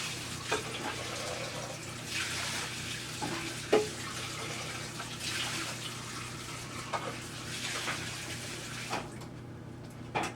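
A bowl being rinsed under a running kitchen tap while making carrot cake, a steady broadband water flow with a few brief splashes and clatters, close and moderately loud, with no speech.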